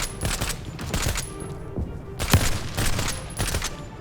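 Gunfire from the video game Market Garden: bursts of rapid shots and repeated single cracks, fairly close and loud, with a busy battle bed beneath and no talk.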